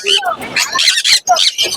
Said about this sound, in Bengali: এটা হচ্ছে এটা black cap lory, full adult ready pair